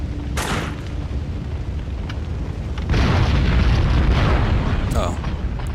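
Explosions go off on either side in Max Payne 2 as heavy, rumbling booms with a dense roar that swells midway, along with a few sharp bursts and someone talking over the top.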